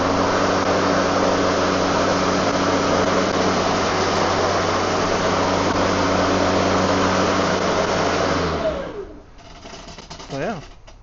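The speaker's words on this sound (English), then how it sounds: "It sounded pretty loud just with that blade spinning" The spinning blade of a Milwaukee 2823-22HD electric lawn mower gives a loud, steady, close-up whir with a continuous hum that winds down and fades near the end, followed by a brief faint rattle.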